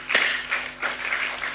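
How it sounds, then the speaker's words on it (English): Audience applause at an event on One Health and the environment in the Asia Pacific region, a brief burst of clapping from a small crowd, steady and moderately loud with no talking. "I'd like to give them a round of applause"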